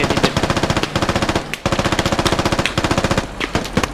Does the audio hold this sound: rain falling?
no